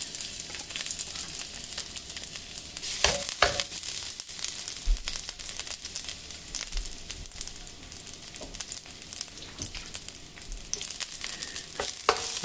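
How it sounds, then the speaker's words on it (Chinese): Garlic slices frying in olive oil over low heat, a steady close crackling sizzle with scattered sharper pops and occasional stirring clinks throughout. "然后开小火，把先放一些蒜片，"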